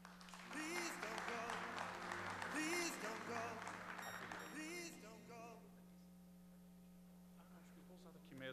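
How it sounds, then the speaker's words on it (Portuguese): A conference audience at a cybersecurity event claps to welcome a speaker to the stage, with dense applause over music and a steady hum that fades out after about five seconds. "vamos receber e aplaudir Nicolas Succo"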